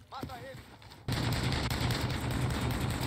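Gunfire from a weapon in a video game breaks out after a brief voice: a dense, sustained burst of rapid shots keeps going to the end.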